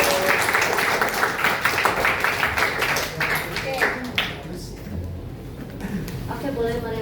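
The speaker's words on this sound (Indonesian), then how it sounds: "Tepuk tangan dong, udah selesai." Students in a classroom clap after a presentation ends, a fairly loud burst of mixed hand claps that thins out, with voices talking over it.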